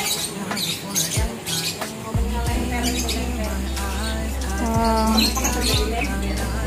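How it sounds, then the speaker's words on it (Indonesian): Birds squawk and chirp in repeated calls beside fish ponds holding arowana, heard over a steady low hum with voices and a busy crowd in the background. "Burung-burung."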